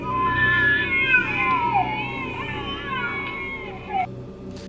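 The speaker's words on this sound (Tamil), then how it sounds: "இந்த சவுண்ட் ஒரு 5 குழந்தைங்க கத்துற சவுண்ட் மாதிரி இருக்குன்னு சொல்கிறாங்க" An eerie recorded wail like several children screaming, made of overlapping high, wavering cat-like cries and yowls that slide up and down over a steady background hum, continuous and fairly loud.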